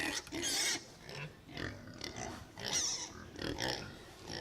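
Pigs on a farm grunt and oink in a busy cluster of overlapping calls, some squealing higher, close by and moderately loud.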